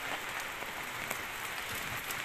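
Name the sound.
heavy rain falling in Cyprus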